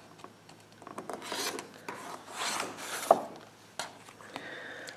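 Rotary cutter slicing cleanly along a ruler through quilting fabric while trimming a quilt block strip to width, giving several close rasping strokes of varying length with short pauses between them.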